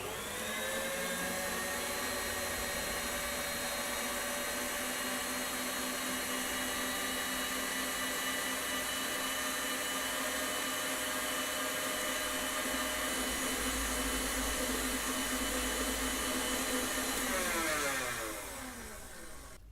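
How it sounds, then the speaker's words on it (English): A stand mixer whips Italian meringue buttercream on high speed, a loud steady motor whine holding for most of the stretch before winding down near the end. "And we're going to mix this on high again."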